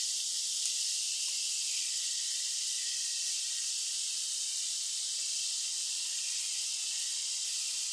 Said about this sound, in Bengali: এবার এই তিল আর কাঁচা লঙ্কা বাটাটা আমি দিয়ে দিই